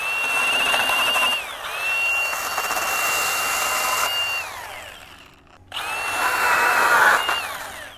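A Milwaukee M18 FUEL Hatchet 8-inch pruning saw, an 18-volt cordless tool, whines at high pitch and bogs down as it cuts through a branch, stops briefly, then revs and cuts again, loud and close.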